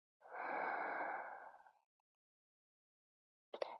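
One long, soft in-breath during a gentle yoga session, close and airy, fading out before a brief faint rustle near the end; no talking.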